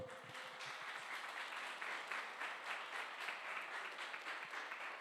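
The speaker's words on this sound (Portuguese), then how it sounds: "Você pode aplaudir o Senhor?" A church congregation applauds the Lord together, dense continuous clapping filling the room at an even level throughout, with no voices over it.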